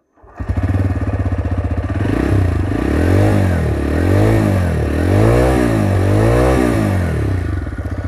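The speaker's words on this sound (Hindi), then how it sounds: "अभी हम लोग इस मोटरसाइकिल का एग्जॉस्ट साउंड सुनेंगे" A 2023 TVS Raider 125 motorcycle engine starts close by, idles with a throbbing exhaust, then is revved in a series of rhythmic rises and falls.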